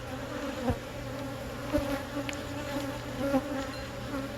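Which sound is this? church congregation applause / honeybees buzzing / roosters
honeybees buzzing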